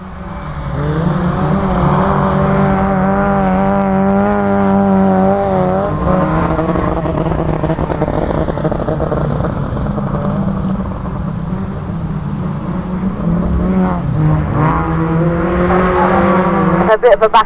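Autograss race cars run round a dirt track at St Neots during a finals race, with engines droning and revving continuously, rising and falling as the cars circle, while a commentator talks throughout.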